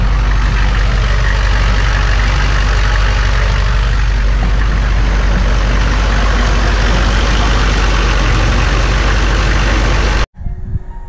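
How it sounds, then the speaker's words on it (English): A Humvee truck engine idles steadily after a cooling system upgrade, a loud, even low rumble running unbroken for about ten seconds before cutting off abruptly near the end. "the truck is running and it seems the install went pretty well"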